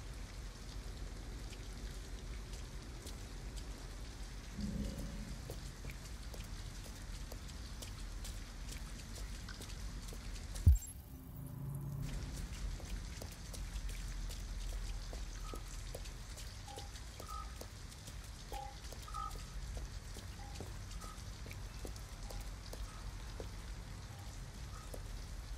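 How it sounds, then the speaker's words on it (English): Steady rain falling outdoors near an abandoned house, a constant soft patter with scattered drips throughout and a brief sharp knock partway through. "At least we'd be out of the rain."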